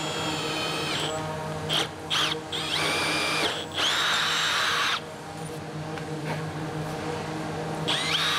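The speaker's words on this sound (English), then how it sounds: "And now you get to drill more holes in my boat." A power drill bores holes into the epoxy-laminated foam core hull of a sailboat, with several close, loud bursts of whining drilling separated by short pauses.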